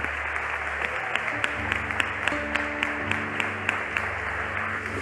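A church congregation claps together in a large room, a dense sustained applause with sharper accented claps standing out over a low musical drone.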